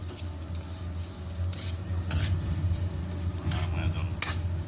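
Garlic sautéing in cooking oil in a pan for adobong labong, a steady close sizzle with intermittent utensil scrapes and clinks against the pan throughout.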